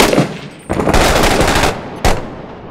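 Bursts of rapid automatic gunfire sprayed at a window in the video game Six Days in Fallujah, two loud sustained volleys separated by a short pause, then a final sharp burst.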